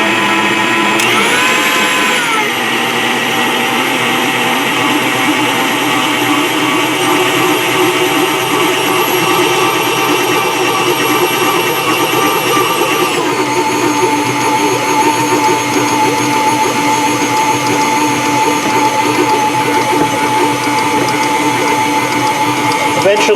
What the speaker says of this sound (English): I prefer to use the stand mixer. Eventually it's going to form a ball of dough